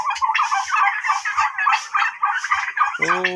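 Turkeys gobble loudly inside their house, a rapid burst of rattling calls repeated several times close up, ending with a deeper honking cry.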